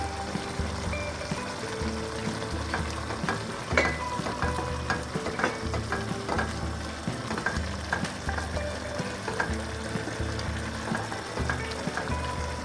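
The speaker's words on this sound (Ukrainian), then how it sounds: "перемішуємо зразу до нашого соусу і висипаємо столову ложку копченої паприки" A wooden spoon stirs smoked paprika and flour into a sizzling sauce for Hungarian-style chicken thighs in a pan, with a steady loud frying hiss and crackle and scraping stir strokes throughout, and no voices.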